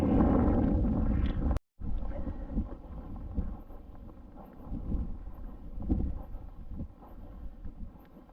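Gusty wind buffets the microphone at a trout fishery, a rough low rumble that swells and fades for about eight seconds, broken by a brief dropout near the start.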